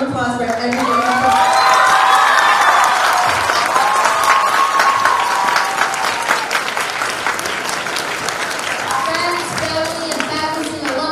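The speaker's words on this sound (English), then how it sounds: "Give another round of applause for everyone." Loud applause and cheering from a crowd at a student singing competition night, with whoops and shouted voices over dense clapping that swells and then gradually thins toward the end.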